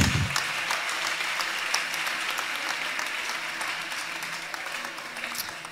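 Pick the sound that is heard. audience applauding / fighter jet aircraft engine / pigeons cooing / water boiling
audience applauding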